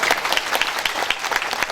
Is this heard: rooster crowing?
no